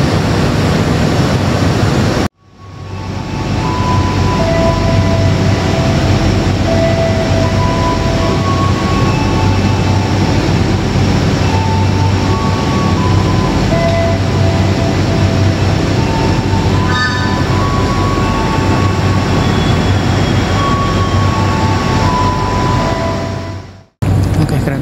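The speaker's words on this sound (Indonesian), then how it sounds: "kereta api Sembrani ini harusnya menyusul kereta api Gajahwong" The Sembrani passenger train passes through Haurgeulis station with a loud, sustained rumble and rolling clatter of wheels on rail, some faint tonal squeals riding over it, after a brief sharp cut at the start.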